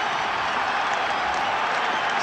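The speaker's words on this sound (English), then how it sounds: "But my goodness, the crowd now rising." A rugby stadium crowd at a 1973 Ireland versus New Zealand test match rising to cheer and applaud, a loud, dense, unbroken roar of clapping and voices.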